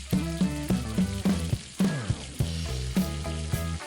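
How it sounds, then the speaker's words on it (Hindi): Chopped garlic sizzles in desi ghee in a pan, a steady close frying hiss broken by repeated soft clinks and stirring knocks in an uneven rhythm. "अब हम इसमें डालेंगे 1 टेबल स्पून चॉप किया हुआ लहसुन और इसे पका लेंगे जब तक इसमें लाइट गोल्डन कलर ना आ जाए"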